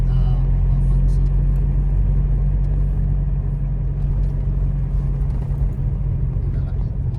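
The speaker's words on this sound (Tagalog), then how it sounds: "pumapasok na truck nga ano dito yung nagkakarga ng uling" Truck pulling in on a road in Pangasinan to haul charcoal, a steady low engine rumble close by throughout, with speech over it.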